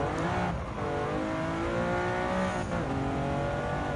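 Historic sports cars racing in Gran Turismo 7, a loud near engine howl with rising and falling revs during an overtake on a Pantera, other cars droning nearby, no talk.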